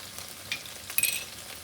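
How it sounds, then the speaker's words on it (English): Spices, onion and sweet corn sauté in a pan for stuffed peppers, giving a soft, faint sizzle with a few light stirring clicks, no voices. "Let's saute this nicely and then we'll add the potato mix."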